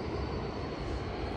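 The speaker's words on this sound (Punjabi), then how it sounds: "ਤਾਂ ਦੇਖੋ ਬਿਲਕੁਲ ਏਅਰ ਕੈਨੇਡਾ ਦਾ ਬਈ ਜਹਾਜ਼ ਆ, ਲੈ ਬਿਲਕੁਲ ਉੱਤੋਂ ਹੀ ਕੋਲ ਦੀ ਲੰਘਦਾ" An Air Canada airliner passes low overhead on approach to Calgary airport, a loud, steady, broadband engine roar that fills the whole moment with no voices.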